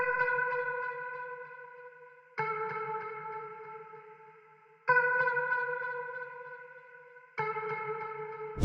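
A processed Latin guitar accent loop with heavy effects, four sustained sustained chords that each strike and slowly fade over about two seconds, repeating evenly with no voices.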